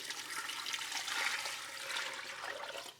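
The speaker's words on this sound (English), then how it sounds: "We're gonna put in 6 cups of just plain chicken stock" Six cups of plain chicken stock pour steadily into a soup pot, a continuous splashing, gurgling stream for about three seconds that tapers off at the end, with no talking.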